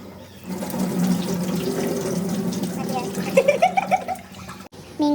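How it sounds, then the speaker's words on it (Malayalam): Tapioca being washed under running water for a mixed fish curry, a steady splashing flow near the mic with rinsing and clattering toward the end, under quiet speech. "നമുക്ക് അതിനെ കപ്പ ഒന്ന് കഴുകി സെറ്റാക്കാം. ഇത് 3-4 പ്രാവശ്യം കഴുകിയെടുക്കാം"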